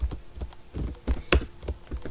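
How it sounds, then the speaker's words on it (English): Typing on a computer keyboard, close and moderately loud, with irregular clusters of key taps and one sharper clack, and no voices. "I am typing here"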